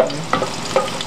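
A garlic clove fries in a pan for a salt cod filling, giving a steady close sizzle with two quick stirring scrapes.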